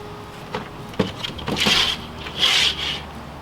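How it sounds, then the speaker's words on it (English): A dull knife cuts around the neck skin of a butchered chicken, making a few short, close scraping and rasping strokes that grow longer and louder toward the end, with no talking. "Cut around the neck, just cut the skin."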